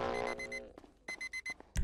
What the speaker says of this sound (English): Egg timer.